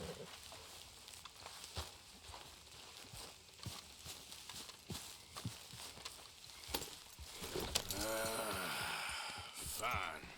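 Horse hooves in the video game Red Dead Redemption 2 beat out a steady clip-clop rhythm amid game ambience, and a swelling whooshing sweep takes over near the end.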